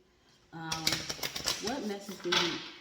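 A deck of cards is shuffled up close, a burst of quick papery riffling and flicks lasting a couple of seconds, with a voice talking faintly alongside.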